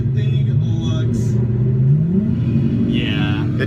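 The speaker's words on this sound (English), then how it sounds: "It does sound like a pretty deep rumble" A car engine rumbles deep and loud up close, rising in pitch as it accelerates away, with a steady low roar throughout.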